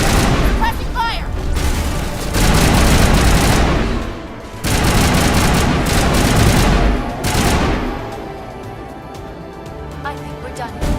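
Dense rapid gunfire from a Mass Effect Legendary Edition firefight, loud and close, rattling in long sustained bursts with brief lulls between volleys and a voice calling out over the shooting.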